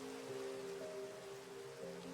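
Rain falling in the Minecraft video game, a faint, steady hiss of drops continuing evenly throughout with a soft, low tonal backdrop.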